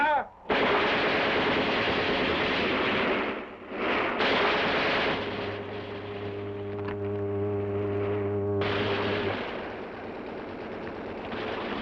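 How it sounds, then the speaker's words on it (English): Machine gun fire in a sci-fi film rattles in long, dense, loud bursts broken by short pauses, with droning tonal effects running underneath. "They only have a machine gun now"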